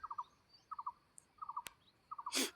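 Outdoors in a quiet rural field, a bird repeats a quick triple-note call at regular intervals, faint and somewhat distant, with one sharp click and a brief rustling burst near the end.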